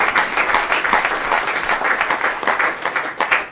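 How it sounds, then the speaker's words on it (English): Audience at a Kansas City startup pitch meetup claps for a design team, a loud, sustained round of many hands with crisp individual claps standing out before it tapers off. "give them a clap, please."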